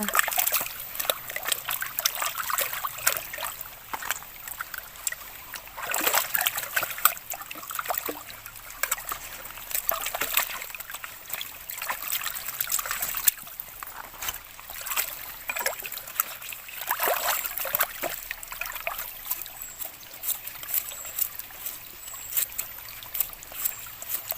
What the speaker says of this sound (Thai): ล้างกับลำธารเลยพี่น้อง